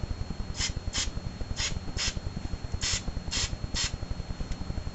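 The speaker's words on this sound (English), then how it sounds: "I just like to cock back the firing mechanism, and spray." Several short bursts of hissing cleaner spray into a gas airsoft M4 gun's firing mechanism, about seven in irregular succession, close up over a low rhythmic background rumble.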